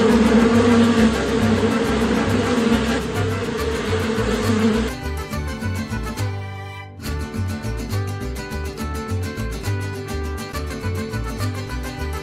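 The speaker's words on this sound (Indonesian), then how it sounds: "Ini adalah lebah." A loud, close buzzing drone, shifting partway through into a steadier pulsing buzz with a brief dropout.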